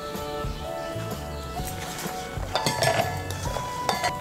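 Pieces of pointed gourd drop into a mixer jar with a cluster of light clinks and knocks, close and moderately soft, no voices.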